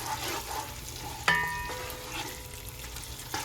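Vegetables sautéing in oil for a legume vegetable stew, giving a soft steady sizzle and crackle with a sudden clatter of a utensil partway through, and no voices.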